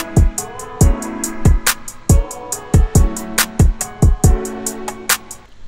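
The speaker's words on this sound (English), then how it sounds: "This one's the shaker right here." A shaker plays a steady, evenly spaced pattern of bright ticks on top of a produced hip-hop beat, its crisp repeated hits riding over booming kick drums and layered synth tones, with no voices.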